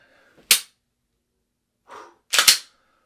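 Pistol shots crack out in a tight sequence, one sharp report, a softer sound, then two quick loud reports close together, each short and dry against silence.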